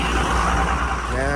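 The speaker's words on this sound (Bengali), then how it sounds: "1-2 গাড়ি হাইওয়ে দিয়ে পাস করছে, বাকি সব শান্ত" A Mahindra Thar 5-door passes along a quiet mountain highway in Ladakh, its steady engine and tyre rumble loud and close throughout, with a broad traffic hiss and a faint tonal whine rising near the end.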